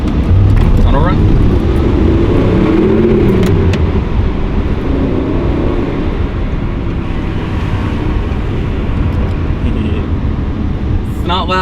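An Audi R8 V8 runs through a tunnel, a steady low engine drone with rising and falling rev sweeps that reverberate for about twelve seconds, loud and close throughout.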